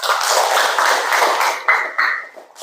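A classroom group claps together for a short, dense burst of applause that fades out over about two seconds, with no talking over it.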